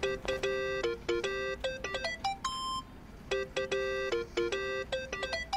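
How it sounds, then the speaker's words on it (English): A phone rings in the video game Yakuza: Like a Dragon as a bright electronic ringtone of quick repeated beeping bursts, loud and steady with one short pause between patterns. "Oh, my phone is ringing."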